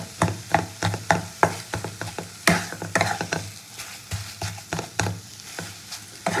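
Fish chop filling of fish mixed with mashed boiled potato is stirred by hand, giving close, steady, rhythmic scraping and squelching strokes roughly every half second, with no voices.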